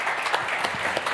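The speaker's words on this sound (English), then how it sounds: "Please give a big applause." An audience at a tech hackathon opening day applauds, a dense steady burst of clapping from a crowd.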